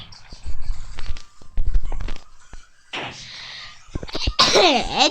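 A sneeze during a Minecraft play session, followed by a sharp nasal burst near the end amid game sounds and scattered noises, close and fairly loud.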